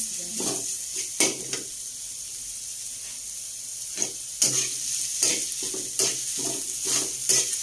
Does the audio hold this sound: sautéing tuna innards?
yes